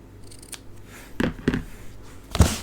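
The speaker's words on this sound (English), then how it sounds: "Trim off the ends." Scissors snipping the trimmed ends of a knotted ribbon loop at a craft desk, a few crisp close cuts spaced apart, the last one loudest.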